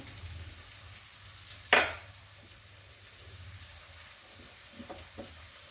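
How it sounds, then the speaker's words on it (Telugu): Washed curry leaves drop into hot oil in a pan with a sudden loud sizzling burst that fades into a steady low fry, with a few faint clinks later on. "ఇప్పుడు ఇందులో కొంచెం కరివేపాకు కడిగి పెట్టేసుకొని వేస్తున్నాము"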